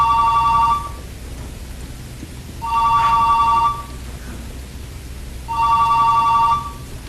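A cellphone rings in a quiet room, three evenly spaced bursts of electronic ringtone about a second long each, steady and fairly loud over a low background hum, with no one speaking.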